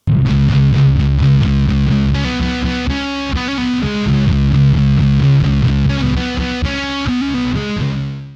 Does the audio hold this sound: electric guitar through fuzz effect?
yes